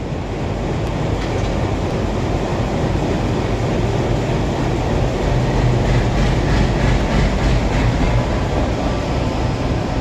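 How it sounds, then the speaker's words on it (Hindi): Railway engine on a trial run along the Chhindwara to Nainpur line in India, a loud, close, continuous rumble with rhythmic wheel clatter that runs the whole time, with no voices. "आज रेलवे के अधिकारियों द्वारा छिंदवाड़ा से नैनपुर मार्ग पर चलने वाले इंजन का ट्रायल लिया गया"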